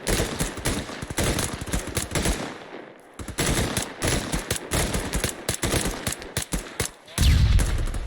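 Automatic weapons fire during a squad attack in Arma 3, with rapid, dense bursts of loud machine-gun shots and overlapping volleys, a short pause near the middle, then sustained firing again.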